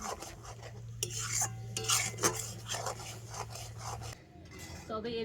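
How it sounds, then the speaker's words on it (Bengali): A sweetened milk mixture, with soaked raisins added, is stirred in a pan until it dries for a fried-milk sweet; a spoon scrapes and clinks steadily against the metal with a faint sizzle and a low steady hum underneath. "এইভাবে করে আবারও কিন্তু কন্টিনিউ একটু নাড়াচাড়া করে এটাকে শুকনো করে নিতে হবে"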